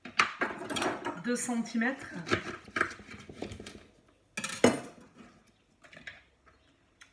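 Knife cutting violet artichokes on a board, with close clicks and scraping taps between stretches of talking. A speaking voice runs over most of the cutting.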